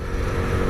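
Apollo RX 36 Xtreme 50cc dirt bike engine running steadily with a low, buzzy motorcycle drone, close and fairly loud, no talk over it.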